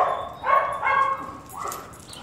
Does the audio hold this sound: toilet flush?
no